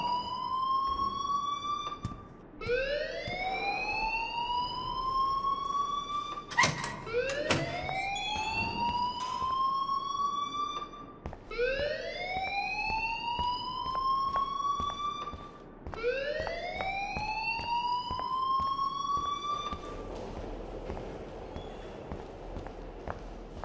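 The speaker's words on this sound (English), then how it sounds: "please turn off that alarm since that's your job" A school fire alarm in the video game Life Is Strange whoops in repeated rising sweeps, each about four seconds long, with faint footsteps underneath and no talking.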